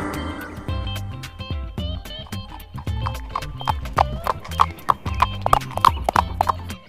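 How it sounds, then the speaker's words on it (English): Rhythmic clip-clop of horse hooves trotting close by, with a horse neighing near the start. "H for horse."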